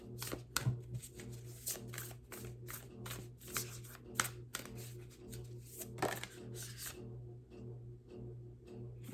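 A deck of cards is shuffled in a run of quick, crisp riffling bursts over a steady low hum, close and fairly quiet, with no voices.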